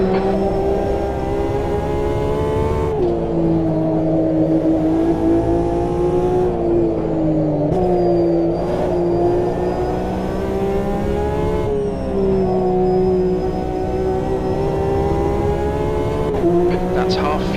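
Racing car engines in the Automobilista 2 sim racing game, a loud close engine droning steadily and shifting pitch through gear changes, with a radio voice talking over it.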